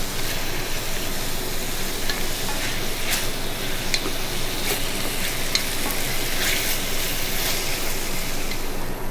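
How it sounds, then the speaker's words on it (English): Onions, tomatoes, ginger garlic paste and green chilies sizzle steadily in a hot pan, a continuous close frying hiss with occasional soft crackles and stirring scrapes. "I've been frying the onions and the tomatoes and the ginger garlic paste and the green chilies"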